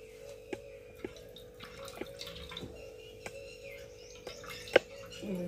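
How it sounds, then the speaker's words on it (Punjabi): Watermelon pulp is squeezed in a cloth to press out its juice for stuffed parathas, giving sparse, distinct drips at uneven intervals in a quiet kitchen, with faint bird chirps in the background. "ਇਹਨੂੰ ਆਪਾਂ ਕੱਪੜੇ ਦੇ ਵਿੱਚ ਪਾ ਕੇ ਐਵੇਂ ਇਹਦਾ ਪਾਣੀ ਕੱਢ ਲਵਾਂਗੇ।"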